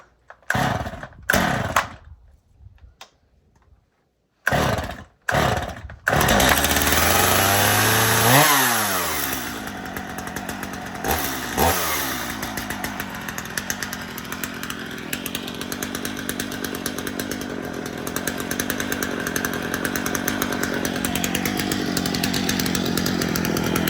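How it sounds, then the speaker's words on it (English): A cold chainsaw sputters through several pull starts, then roars to life and revs up, running loud and steady close by with pitch swings as the throttle changes. "Not bad for a chainsaw."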